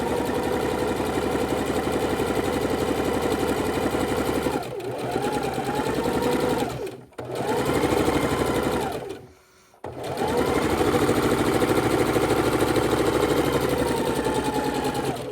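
A sewing machine stitches a quarter-inch seam on quilting fabric, a loud steady mechanical whirr that runs continuously and twice pauses briefly before starting again, close by, with no talking.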